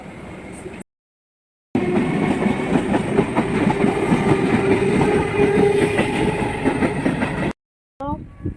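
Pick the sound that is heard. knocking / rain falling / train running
train running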